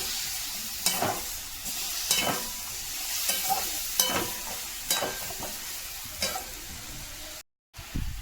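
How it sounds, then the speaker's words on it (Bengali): Fried cauliflower florets are sautéed in a pan over a steady sizzle, with a spatula scraping and clinking at a regular rhythm of about one stroke per second. "আমি ভাজা কপিগুলো সব দিয়ে চাপা দিয়ে কষবো"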